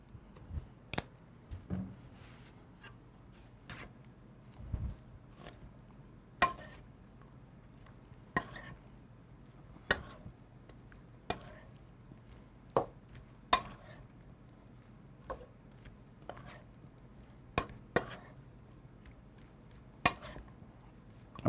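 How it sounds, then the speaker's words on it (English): German potato salad being stirred together with a Dijon mustard dressing: a utensil knocks and scrapes against the bowl in sharp, irregular clicks, roughly one every second, close and fairly quiet, with no talking. "I'm gonna mix everything together here."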